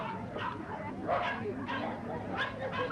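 Dogs at a dog show with Great Danes in the ring, barking and yipping in short repeated bursts at mid distance over a busy crowd murmur, with voices talking throughout.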